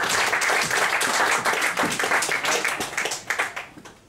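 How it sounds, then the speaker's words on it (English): An audience at a mind-reading stage show applauds volunteers coming on stage, a full dense round of clapping that holds steady and then tapers off toward the end. "Give them a round of applause"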